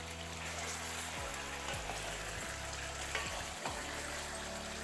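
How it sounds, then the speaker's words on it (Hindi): Beef trotters fry in a pot with a dense, even sizzle that carries on throughout, broken by a few faint knocks. "अब पायों को हम 5 से 7 मिनट तक अच्छी तरह भुनेंगे ताकि इसमें से कोई स्मेल ना आए"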